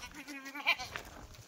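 A Kathiawadi goat gives a short, fairly faint bleat at a goat sale, with a voice talking around it.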